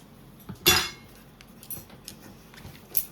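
A pot of biryani is jolted and mixed with one sharp metallic clank early on, followed by lighter scattered clinks of metal against metal in a quiet room.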